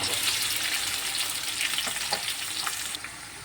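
Green chillies and sliced onion fry in hot oil for an egg curry, a steady, close bright sizzle throughout, with a few soft stirring clicks and no talking.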